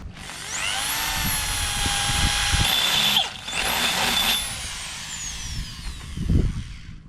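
A power drill bores holes in wooden fence posts, its motor whining up to a high pitch and holding steady, stopping briefly, then spinning up again before fading out, with a dull knock near the end.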